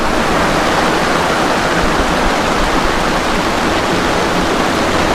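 Rushing floodwater during Typhoon Kristine under Signal No. 3, with water swallowing the sand along the shore: a loud, steady roar of surging water filling the whole scene without letup.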